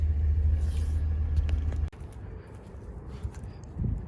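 Idling car engine with a low, steady rumble that cuts off abruptly midway as it is switched off while parking at night, leaving quieter low background noise with faint rustles afterward.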